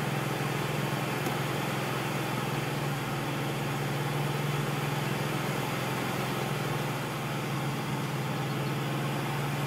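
Supercharged Ford Mustang S550 with a 5.0 engine held at steady revs around 2,500, a constant droning hum with a strong low tone, loud and unchanging with no talking.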